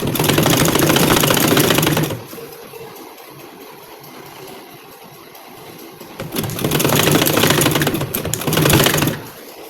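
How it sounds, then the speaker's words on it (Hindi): A sewing machine stitches scallop lace onto a kurti in two loud bursts of rapid, rattling needle clatter. Between them comes a quieter stretch of several seconds with only faint background sound. "मैं बिल्कुल चौक से ही इसकी सिलाई लगाना स्टार्ट कर रही हूँ"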